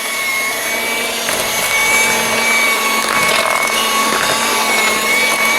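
Cordless Aldi Ambiano hand mixer running with large beaters, a continuous close motor whir with steady tonal hum and slight wavering in intensity throughout.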